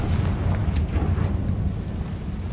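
A Confringo blasting spell goes off in Hogwarts Legacy, a loud rumbling explosion with a dense low boom and a brief sharp crack, sustained throughout.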